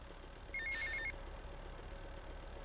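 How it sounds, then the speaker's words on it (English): A payphone in Grand Theft Auto: Vice City gives one short electronic trilling ring, faint and brief, over a low steady game background rumble. "Get to the payphone next to the mall in Washington."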